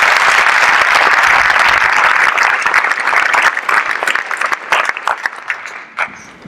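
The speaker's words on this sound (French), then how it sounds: "Nous pouvons également les applaudir très chaleureusement." Audience at a film festival opening ceremony applauds warmly: dense, loud, sustained clapping that thins into scattered individual claps as it fades out.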